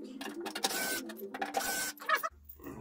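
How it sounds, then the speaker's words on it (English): A power drill fitted with a Phillips bit whirs in short bursts while backing screws out of the top of a Marshall Valvestate amplifier under repair, its motor starting and stopping at close range. "got my drill here, it only takes like a Phillips bit"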